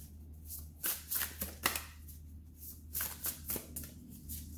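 Tarot cards are shuffled by hand in a series of quick riffling bursts, close and fairly soft, with short pauses between.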